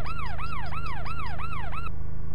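Police car siren from The Need for Speed on the Panasonic 3DO, a rapid repeating yelp that sweeps up and down about six times over a steady low engine drone, then cuts off abruptly.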